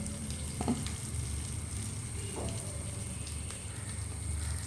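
Prawns frying in a pan with onion and curry leaves, a steady close sizzle and crackle throughout with a few faint utensil taps, quiet and with no voices.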